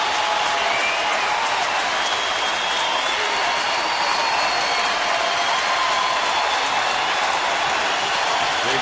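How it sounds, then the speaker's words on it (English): A big crowd at a Boston at Houston baseball game roars and cheers steadily with scattered applause, a dense, continuous wash of sound filling the ballpark after a full-count strikeout with two outs. "Big crowd, exciting moment."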